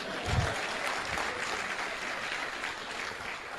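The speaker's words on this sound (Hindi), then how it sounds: "बजाओ ताली भाई।" Audience applause in a seated meeting hall, a steady wash of clapping from a crowd that holds at an even level for several seconds with a soft thump near the start.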